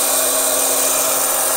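Steady whirring blast of a hot-air popcorn maker running, a constant fan-and-heater hum close by with no talking.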